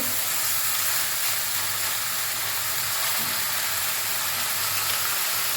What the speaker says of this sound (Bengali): আমি এইরকম অবস্থাতেই নেড়ে ছেড়ে একটু ভাজা ভাজা করবো